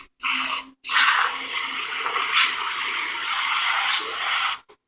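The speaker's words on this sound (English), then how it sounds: "we're going to go ahead and coat this in degreaser" Degreaser hisses from an aerosol can onto a carburetor: a short burst, a brief break, then one long continuous spray that stops with a tiny final puff. It is close, loud and has no voices.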